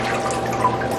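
Water drains and trickles from a heavy bowl of freshly washed fruit, a short, close, continuous splashing dribble with no voices.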